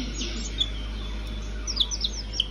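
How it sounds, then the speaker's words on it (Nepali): High, thin chirps from a chick, a few scattered peeps then a quick cluster near the end, close and clear over a low hum, indoors. "गाइस यहाँ चाहिँ हाम्रो चल्ला छ"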